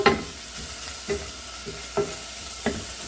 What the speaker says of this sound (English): So I will let the onions cook through for a moment or two